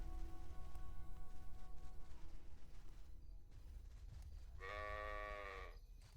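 A sheep in the video game Sacred Gold gives a single drawn-out bleat, preceded by a steady patter like rain and a low rumbling.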